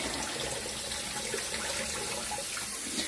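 Running water rinses split peas for a ham bone soup, a steady close splashing and rushing stream that fills the clip without pause.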